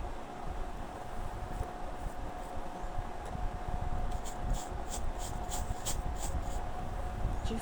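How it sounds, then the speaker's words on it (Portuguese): Acrylic paint brushed onto canvas with lighter strokes mixed with white while painting roses, a soft steady scrubbing of bristles, faint and close, with a run of brief sharper dabs in the second half. "Aqui eu já estou pintando com umas pinceladas mais claras, com mistura de branco."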